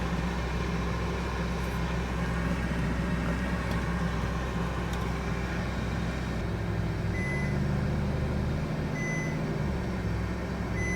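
A Ferrari in reverse gives a few faint, high, evenly spaced warning beeps over a loud, steady engine hum and road noise.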